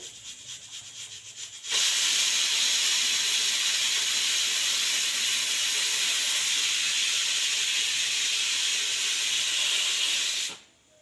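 Pressure cooker cooking moth beans lets out a loud, continuous hissing whistle of escaping steam for about nine seconds, then cuts off abruptly.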